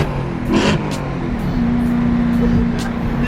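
A Nissan GT-R engine roars steadily at close range at a car meet, its pitch climbing briefly as it revs, with faint voices in the background.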